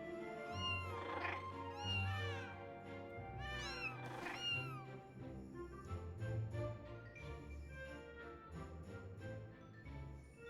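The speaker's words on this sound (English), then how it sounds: "Hey, cat." A cat meows several times in Final Fantasy XIV, drawn-out rising and falling calls clustered early and midway, heard over steady layered game music.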